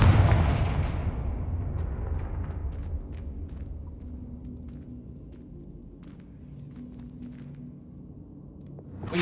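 Fiery spell blasts erupt in a fantasy wizard battle in the Hogwarts Legacy video game, a loud booming burst at the start fading into a long low rumble, with scattered small cracks and thuds, then another swell at the very end.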